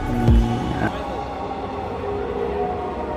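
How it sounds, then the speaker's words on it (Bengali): A Dhaka Metrorail train pulls away from a station platform with a low rumbling roll and a brief high squeal near the start, followed by a steady mechanical hum and murmuring station ambience. "যে ট্রেনটা দিয়ে আমরা মতিঝিলে যাব, ট্রেনটা ছেড়ে দিল"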